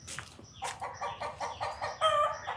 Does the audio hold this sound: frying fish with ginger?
no